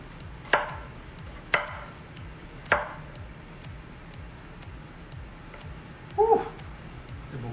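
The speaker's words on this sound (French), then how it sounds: "Parlez entre vous autres parce que je dois couper à ce moment." A knife chops food on a cutting board during cooking of Punjabi poutine. Three sharp, separate thuds land about a second apart, with a softer double knock later, over low background noise.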